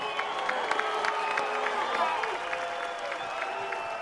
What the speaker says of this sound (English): I would like everyone to give Turki Al-Sheikh a hand and a round of applause